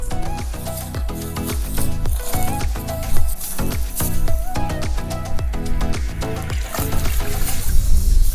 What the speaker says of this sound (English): I'm also watering our shrubs